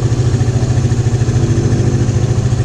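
Honda Raider 150 motorcycle engine fitted with a 30mm Keihin carburetor, idling steadily at close range with an even, rapid pulsing throb and light mechanical clatter, loud and alone.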